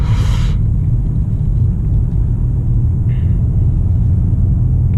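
A 2019 Mercedes-Benz CLS 350d 4MATIC coupé diesel pulling under light throttle, heard from inside the cabin as a loud, steady low engine and road rumble with no talk over it.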